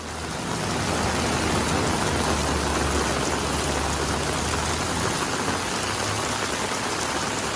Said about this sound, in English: while the rain continues to fall.